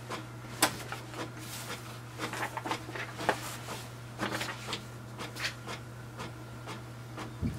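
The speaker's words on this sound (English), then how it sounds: "printer has started to print now." An HP Deskjet 3776 all-in-one printer prints a page: a steady low motor hum under a run of soft mechanical clicks, whirs and paper-feed ticks, fairly close and moderate in level, with no talking.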